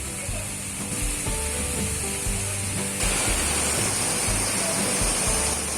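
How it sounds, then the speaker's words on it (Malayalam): Baroda Waterfall at Karuvarakundu pours down from height in a dense, continuous rush of splashing water, loud and close, with a broad steady hiss and no pauses. "വെള്ളം അങ്ങനെ ഹൈറ്റിൽ വന്ന് പതിക്കുന്നതുകൊണ്ടേ വെള്ളം നമ്മളെ മേലൊക്കെ നിൽക്കുന്നതായി തെറിച്ച് വരുന്നുണ്ട്"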